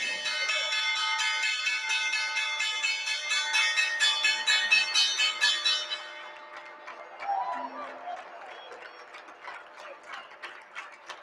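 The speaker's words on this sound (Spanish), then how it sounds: "a punto de sonar las campanas" A stock exchange opening bell rings with rapid repeated clanging for several seconds, then fades into mechanical clicking and faint background murmur.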